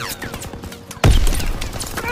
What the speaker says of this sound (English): MG in the hayloft!